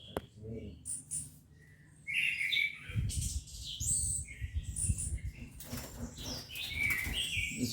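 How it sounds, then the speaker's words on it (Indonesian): Orange-headed thrushes in an aviary give bright chirps and tweets over soft wing flapping and rustling, with the calls close and scattered irregularly and the flapping busier in the second half. "Sebenarnya dari setiap penjuru ada burung."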